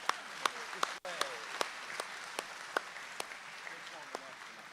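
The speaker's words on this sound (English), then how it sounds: "One more round of applause." An audience at the Ohio State Fair Sale of Champions livestock auction gives a round of applause, scattered claps with sharp individual hand strikes over a crowd murmur, moderately loud and fairly sparse.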